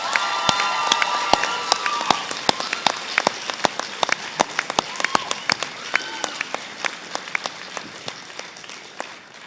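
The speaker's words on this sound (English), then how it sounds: "What I notice is there are lots of friends and family clapping themselves" Graduates, friends and family at a graduation ceremony applaud in a loud, sustained burst, with sharp individual claps and a few cheers standing out over the crowd.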